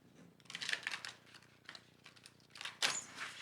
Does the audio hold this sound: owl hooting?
no